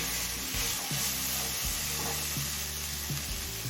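Whole garam masala of cardamom, a cinnamon stick piece and cloves frying in a pan, giving a steady close sizzle with a few soft stirring clunks; no talking.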